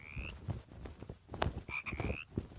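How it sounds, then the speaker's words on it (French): Frogs croaking in a rapid, rhythmic chorus, with repeated clicking croaks and a few higher trilling calls, fairly close and steady throughout without any talking. "Les grenouilles."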